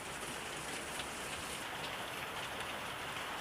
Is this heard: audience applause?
no